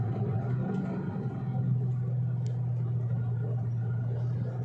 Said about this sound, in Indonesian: Nah, saya tancap gas.